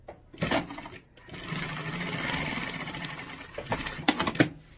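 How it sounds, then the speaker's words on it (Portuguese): A sewing machine stitches a short seam of about eight centimetres on a rounded fabric toiletry bag. Fast, rhythmic needle clatter runs in bursts, with a few pauses and brief handling noises between them. "Tô batendo uma costurinha de mais ou menos aqui uns 8 centímetros"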